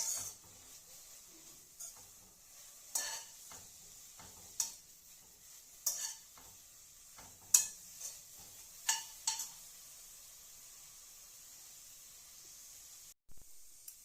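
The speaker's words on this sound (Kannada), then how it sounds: "ಈಗ ಇದ್ರ ಜೊತೆಗೆ 2 ಜೀರಿಗೆಯನ್ನು ಹಾಕಿ ಮತ್ತೆ ಹುರಿತಾ ಇದ್ದೀನಿ ನೋಡಿ" Amaranth greens and cumin seeds stir-fried in a pan, heard as a quiet, steady hiss broken by soft, irregular scrapes and clicks of stirring. No one speaks.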